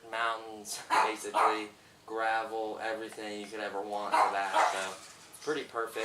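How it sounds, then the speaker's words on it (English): A dog barks indoors at home in short, intermittent outbursts, heard behind someone talking steadily in the foreground. "Sorry about the dog barking."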